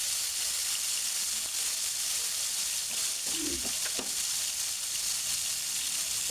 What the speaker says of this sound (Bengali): এবার আমরা মুরগির মাংসগুলো দিয়ে দিচ্ছি।